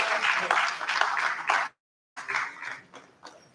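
An audience at an in-house research review meeting applauds the presenters, crisp clapping from a modest crowd that breaks off into a brief gap of silence, then resumes and tapers away.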